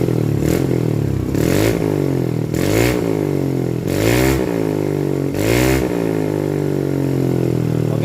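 A Yamaha Mio M3 scooter fitted with a Juken 5 ECU revs five times in short throttle blips, each rising sharply and falling back to a steady idle, recorded up close.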